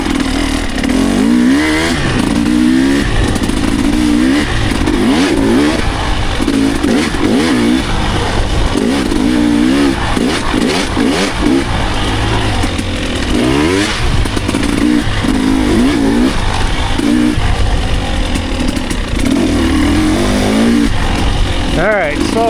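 A motorcycle ridden along a dirt trail in early 2026, its engine loud and close with shifting revs and rattling clatter throughout, while a rider talks over it.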